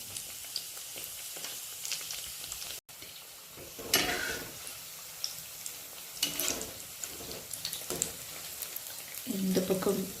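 Banana flower and chickpea vadai frying in hot oil, a steady close sizzle with occasional scrapes and stirring clatter, someone talking over it now and then.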